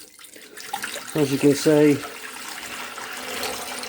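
Warm water is poured into the tank of an ultrasonic vinyl record cleaner, a close splashing pour under a man's speech.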